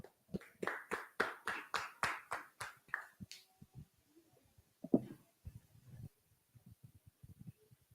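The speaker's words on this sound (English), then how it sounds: "Clap it up." A single pair of hands clapping in a quiet room at a class meeting: about a dozen sharp, evenly spaced claps in a brisk rhythm, close and clear, then stopping, followed by faint shuffling and a few soft knocks.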